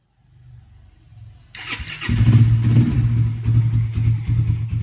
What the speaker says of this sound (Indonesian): Oke, motor sudah hidup.